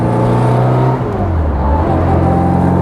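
A 1960 Austin-Healey Bugeye Sprite running steadily as its gearbox is shifted into first, the engine note dropping and changing partway through, close and continuous with no talk.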